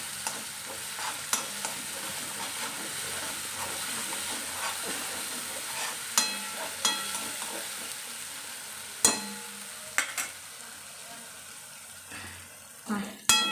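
A tempering of turmeric sizzles and roasts in a pan, a quiet continuous frying hiss punctuated by sharp clicks and scrapes of stirring.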